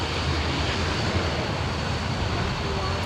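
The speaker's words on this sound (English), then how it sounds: "Time for the United 777." A United Boeing 777 airliner at Sydney Airport, a loud continuous broadband jet engine roar with a steady rumble and no pauses.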